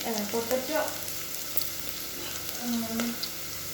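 Garlic and cumin sizzle in hot ghee while being stirred, a steady close frying hiss with scattered spoon scrapes and clinks, no talking.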